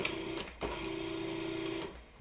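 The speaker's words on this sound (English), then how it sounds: "I'm just going to give them a quick zap in the food processor" A food processor whirs in two short bursts, blending baking powder, cinnamon and salt, a steady close motor hum broken by brief pauses.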